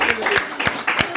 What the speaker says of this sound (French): On applaudit Melinda.